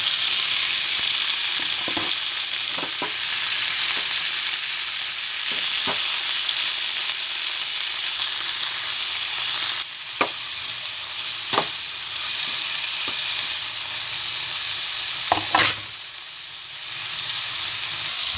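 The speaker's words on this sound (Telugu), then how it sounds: "తర్వాత ఉల్లిగడ్డలు తర్వాత టమాటాలు ఈ మూడు కలిపి నూనెలో మంచిగా వేయింపుకోవాలి" Onions and tomatoes fry in oil for a dosa chutney, giving a long, steady, close sizzle with occasional light clicks and scrapes of stirring that settles slightly quieter toward the end.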